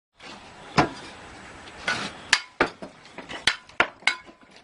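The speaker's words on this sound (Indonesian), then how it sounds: "Jika batu bata harus dipotong, pria ini hanya menggunakan sendok semen untuk memotongnya" A mason's trowel strikes a brick to cut it at a building site, a string of sharp metallic knocks that come faster toward the end, close and distinct over low background noise.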